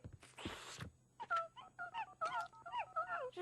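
A cartoon dog whimpers and whines in a run of rising and falling high moans after a brief burst of rustling noise, close and soft, with no speech over it.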